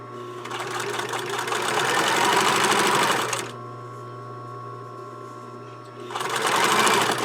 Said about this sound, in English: for our purposes I'm going to just straight stitch. Just right there on the edge so it holds it in place.